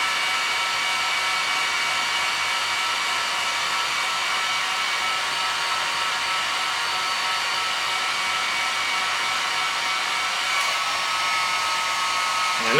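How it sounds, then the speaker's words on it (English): Heat gun blowing on the end of a hose to soften it during a bowlback mandolin neck repair, a steady loud whirring fan roar held constant throughout, with a slight rise at the very end. "So I'm just heating the end of that hose just to soften it."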